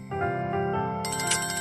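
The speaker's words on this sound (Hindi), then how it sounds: "कॉल आ रहा है" Phone ringtone signalling an incoming video call late at night, a steady tonal melody playing loud and close for the full length, turning brighter and busier partway through, with no talk over it.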